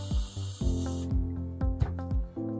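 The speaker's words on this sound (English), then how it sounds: "So I'll just spray some into a lid" Spray paint hisses in one steady burst into a small lid for painting a chestnut teal duck decoy, followed by several close knocks and clatters as the can and lid are handled.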